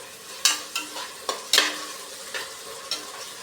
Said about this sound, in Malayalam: നല്ലവണ്ണം ഇത് മൂത്ത് വരുന്നത് വരെ ഇളക്കിക്കൊണ്ടിരിക്കാം